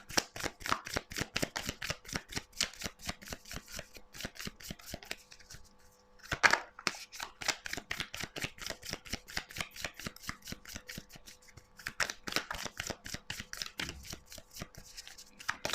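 Tarot cards shuffled by hand in a steady run of quick, crisp riffling flicks, close and moderately loud, with two brief pauses before the rapid card sounds resume; no talk.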